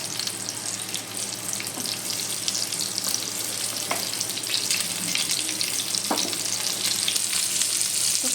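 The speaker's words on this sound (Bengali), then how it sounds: "তেলের সঙ্গে পটলগুলোকে একটু নেড়ে চেড়ে দিচ্ছি" Pointed gourd (potol) frying in oil as it is stirred, a steady loud hiss of sizzling with occasional scrapes of the spoon and no voices.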